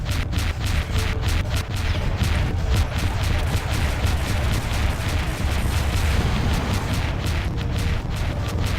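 Rapid flak turret fire from an Aeolus class cruiser in FreeSpace 2 rattles at a player's fighter, dense continuous bursts and booms pounding nonstop at high, steady loudness with no pauses.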